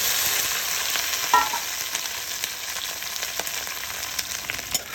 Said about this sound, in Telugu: బాగా కాగుతున్న నూనెలో బెండకాయ